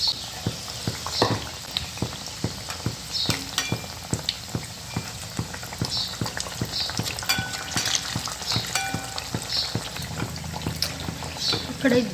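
Bhaje fritters frying in oil in a kadhai during home cooking: a steady close sizzle runs throughout, broken by a regular series of light taps and clicks from stirring or utensil contact.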